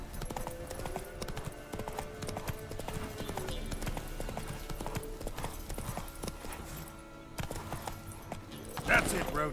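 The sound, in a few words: horse Roach's hooves in video game Witcher 3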